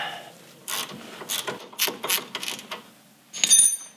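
Metallic ratcheting bursts from a wrench loosening the rusty tie rod clamps on a truck, several short clicking runs spaced through the clip, fairly close, with a brief sharper burst near the end.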